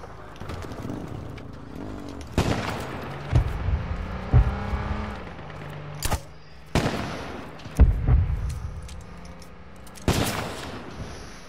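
Sharp gunshots in the H1Z1 battle royale video game, about eight loud, widely spaced reports, several in quick pairs, over a low engine-like rumble with faint game sound between the shots.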